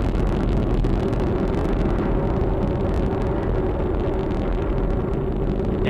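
An Atlas V rocket climbs during launch with a deep, steady broadband roar that rumbles on without pause.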